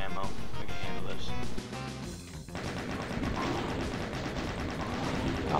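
Rapid chain gun fire rattles in dense, continuous bursts in the retro shooter Doom, dropping out briefly before resuming amid other combat noise.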